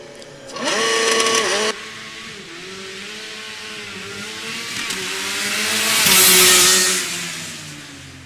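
A Formula Student race car at Formula Student Germany 2023 makes an acceleration run, its engine note climbing in quick gear steps before swelling loud and close as it passes, then fading away.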